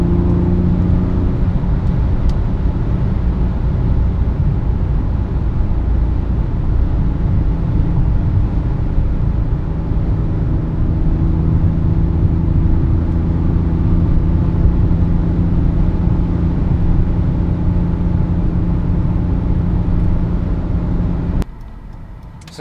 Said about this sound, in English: I'll show you what it looks like now, cruising on the highway at highway speed